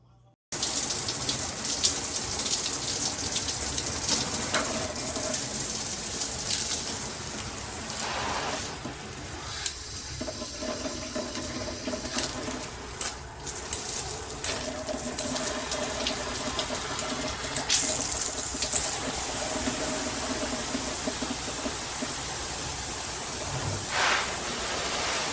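A Cobbe multi-function handheld shower head sprays water in a steady hiss of running spray, with occasional splashes and shifts as the flow hits surfaces, fairly quiet throughout.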